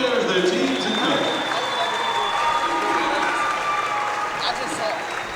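A crowd at a men's college basketball tournament game applauds the players, teams and coaches in a steady, dense wash of clapping that holds for several seconds, with a few voices rising through it.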